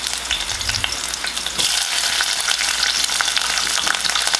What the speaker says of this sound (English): now that the oil is hot, I'm just going to put in some red and orange peppers